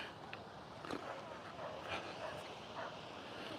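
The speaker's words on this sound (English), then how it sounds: "I can still hear that dog, can you?" A dog barks a few times in the distance, faint against steady wind and outdoor background noise.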